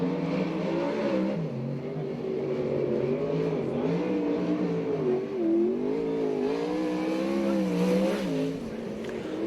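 A USAC/CRA sprint car, Jamie Barnes' number 9, roars around a track at Alger, Washington on a qualifying lap, its engine note rising and falling steadily and loudly for the whole stretch.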